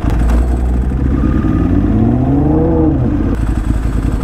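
A GTR car engine revs loud and close, a rough continuous roar that climbs in pitch and falls away, with no talking.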